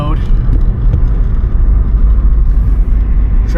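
A Subaru Brat fitted with a WRX engine drives along a road, its steady engine rumble and road noise loud and continuous throughout while someone talks over it.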